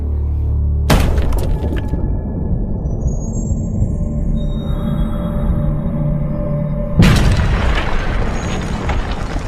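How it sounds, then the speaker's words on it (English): A heavy stone mace smashes into a skull with two loud cracking booms several seconds apart, each followed by a dense, rumbling crunch of breaking bone. "we can see just how much damage a heavy stone mace can inflict on the bones of a skull"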